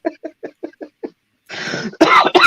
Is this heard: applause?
no